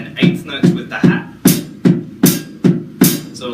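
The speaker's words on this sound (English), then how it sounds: "you can always play just straight 16th notes with the snare, and then 8th notes with the hat" Drum groove played alone, close and clear: snare hits come in an even, steady pulse while hi-hat strokes alternate between them, repeating for about eight evenly spaced beats.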